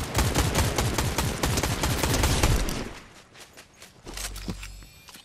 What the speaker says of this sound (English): Sounds like a bot shooting.